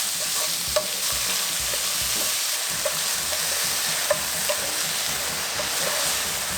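Pork and green onions frying in vegetable oil over high heat with a pinch of sugar, a loud continuous sizzle broken by repeated scraping and stirring clicks from a utensil against the pan.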